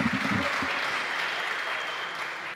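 Sustained applause from an audience at a podcast event, full and steady from start to finish, with a voice briefly audible at the beginning before the clapping carries on alone.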